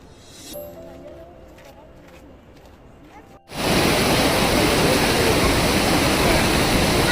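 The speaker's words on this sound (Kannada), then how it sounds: "ಎಷ್ಟು ಚೆನ್ನಾಗಿ ನೀರು ಧುಮುಕ್ತಿದೆ" Quiet outdoor ambience with a brief voice gives way abruptly to a loud, steady roar of a tall waterfall crashing down at Yosemite National Park, filling the rest of the clip.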